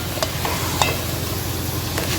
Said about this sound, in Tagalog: let's fry it